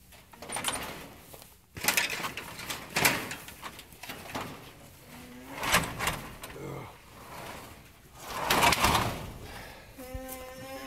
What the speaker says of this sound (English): The ground's frozen up here, and it's causing some issues with the track of the door here.